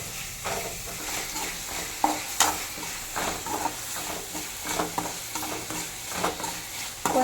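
Squid pieces join softened onions and tomatoes in a pan for a gravy, the mix sautéing with a continuous low sizzle and rhythmic spoon scraping and stirring, moderately loud and without talk.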